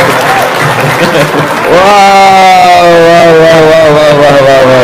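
Audience applause breaking out, loud sustained clapping with a crowd, preceded by a voice and a brief exclamation.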